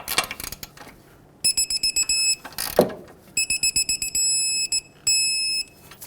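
A click-type torque wrench ratchets a new 18 mm tie rod nut tight on a 2003-2008 Toyota Corolla. Rapid close ratchet clicks come in runs, with high electronic beeping tones over them and short pauses between pulls.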